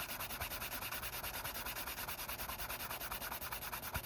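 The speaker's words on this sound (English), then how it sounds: "I will take my canvas and rub back and forth on" Canvas rubbed back and forth on a leather edge to heat and slick it: a steady, fast, rhythmic scraping swish repeating evenly throughout, close and dry, with no talk.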